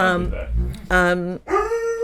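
A pet dog at home lets out drawn-out, wavering howls and whining barks, three close, loud cries in about two seconds.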